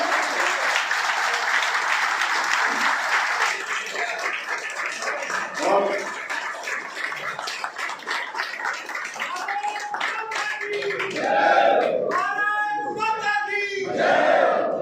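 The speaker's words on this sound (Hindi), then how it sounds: "एक बार जोरदार तालियों के साथ स्वागत।" A crowd at a Brahmin community ceremony in Haryana applauds loudly to welcome Chief Minister Nayab Singh Saini, a dense wash of clapping that thins into scattered claps, cheers and shouting voices.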